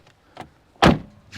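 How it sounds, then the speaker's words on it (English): A 2024 Jeep Wrangler door swings shut with one solid, close thud, followed by a few lighter clicks and latch sounds before and after it. "Now let's quickly do a door sound check."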